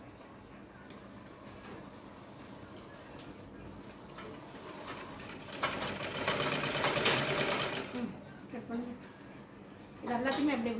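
Sewing machine stitching a blouse cross piece, with a loud rapid rhythmic run of stitching lasting a couple of seconds mid-clip and shorter bursts near the end, while someone talks in between.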